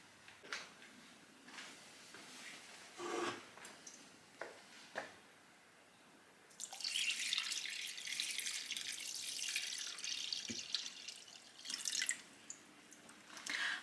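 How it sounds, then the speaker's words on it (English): Water pours steadily and fairly loudly into a large, heavy cooking pot during holiday bulk cooking, a rushing stream in the second half after scattered drips and clinks of kitchen handling. "before I put the final lot of water in here"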